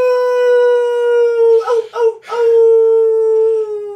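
A man imitates a wolf howl, holding a long, loud wavering tone that breaks briefly in the middle before rising again and slowly fading.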